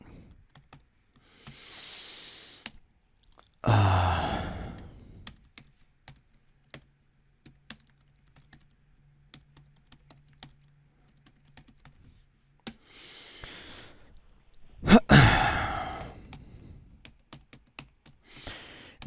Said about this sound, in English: I'm just going to type it out.